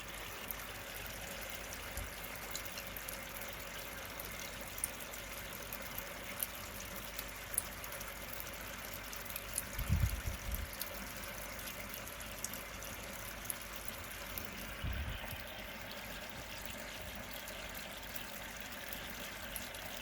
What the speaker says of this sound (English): It appears to be flowing over okay at the moment.